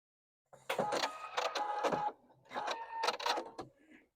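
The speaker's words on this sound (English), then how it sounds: "So I'm going to sew this on just a scrap" Sewing machine stitching a strip of fabric onto a scrap during quilt block piecing, two bursts of close, steady mechanical whirring separated by a brief pause.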